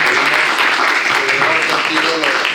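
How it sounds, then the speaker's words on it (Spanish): An audience claps in steady, dense applause at a formal event honouring an embassy, the sound continuous and fairly loud throughout. "le damos un fuerte aplauso"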